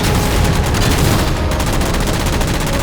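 Rapid automatic gunfire in Halo 4 shooting down jammers, a dense, loud, continuous burst of shots filling the whole stretch without pause.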